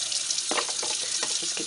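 Cup being rinsed at a sink with water and Dawn dish soap: a steady, close hiss of running water broken by splashy, sloshing bursts as the cup is turned under the stream.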